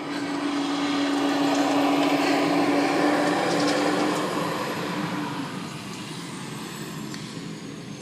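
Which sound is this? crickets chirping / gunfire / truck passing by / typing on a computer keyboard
truck passing by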